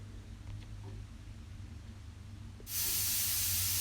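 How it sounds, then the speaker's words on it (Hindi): Pressure cooker on a gas stove, cooking mustard greens, as its whistle lets out steam: a quiet hum abruptly gives way to a loud, steady hiss near the end. "तो हमारी कुकर की सीटी बज गई है"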